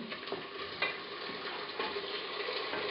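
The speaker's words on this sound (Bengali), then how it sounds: "আমার পেঁয়াজ বাদামি হয়ে আসছে আমার রান্না করা মাংসগুলো এটার সাথে মিশিয়ে দিচ্ছি" Cooked meat being stirred into browned onions frying in a pot for tehari, a steady close sizzle broken by scraping stirs and occasional clinks.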